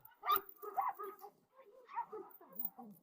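A Cane Corso barks and whimpers in a series of close, short yips and whines with brief pauses, fairly quiet overall.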